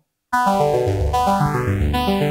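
A Microkorg synthesizer's arpeggiator in down mode cascades notes in a fast arpeggio, stepping downward from higher pitches in a quick, even rhythm, loud and continuous.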